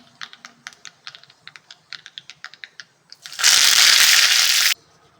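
Curry leaves dropped into hot oil for a tempering with popped mustard seeds and asafoetida: a run of sharp, irregular crackles and pops, then a loud, dense sizzling burst for about a second before it cuts away.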